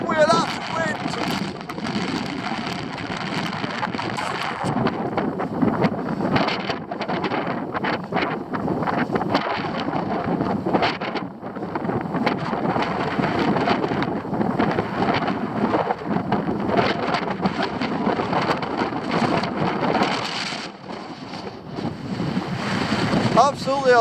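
Steady, loud wind buffeting the microphone on the heights at Peveril Castle, a continuous roar with gusty swells throughout.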